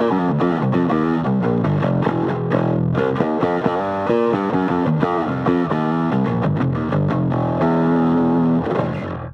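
An electric guitar with overdrive is strummed and picked using a flat pick, producing thick, distorted chords and single notes that ring continuously and loud with no talking.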